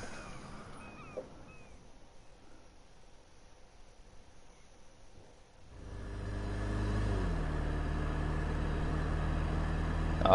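Chloe's car in the Life is Strange video game starts up after a quiet stretch with faint insect chirps, settling into a loud, steady low engine rumble and idle hum.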